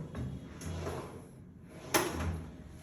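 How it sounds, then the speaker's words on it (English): Modular kitchen drawers being slid open and shut, giving two soft rolling slides, each ending in a light thud, in a quiet room. "We have three drawers here."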